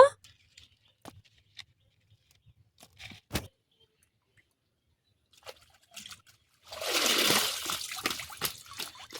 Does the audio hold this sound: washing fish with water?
yes